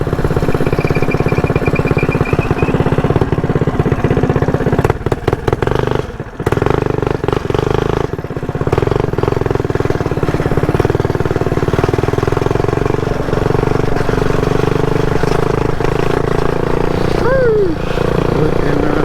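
A mini bike's small engine drones loud and close while riding on a road, holding a steady buzzing tone with slight shifts in speed throughout.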